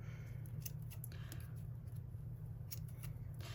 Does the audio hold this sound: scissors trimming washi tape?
yes